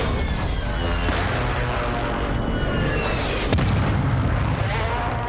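Air strike explosions in Warzone 2 roll together into a loud, continuous rumble of booms, with a sharper blast near the middle and a jet-like whine sweeping through.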